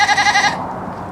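Nigerian Dwarf goat giving one loud, wavering bleat at close range that breaks off abruptly about halfway through, followed by quiet room tone.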